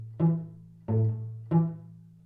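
Cello notes bowed without fingers held down for resonance, three short separate strokes, each swelling then fading, quiet and close, with no one talking.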